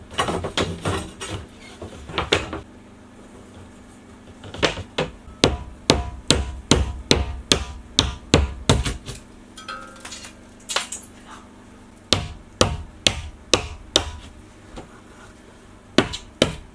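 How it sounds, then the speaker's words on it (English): A hammer knocks repeatedly into a ceiling sheet during house renovation, sharp loud bangs in uneven bursts and runs with short pauses between, close by and without talk. "then I'll knock in with a hammer"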